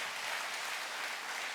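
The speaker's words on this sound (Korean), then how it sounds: "우리 다시 한번 박수하겠습니다" Church congregation clapping together during a worship service, a steady dense applause sustained throughout without voices.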